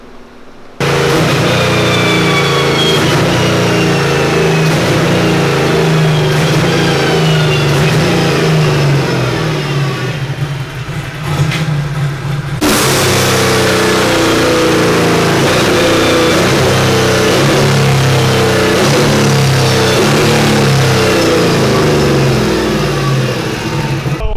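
A car engine strapped to a dyno revs hard through repeated throttle blips, roaring loud and close with a steady drone between sharp rises and falls, and no voices.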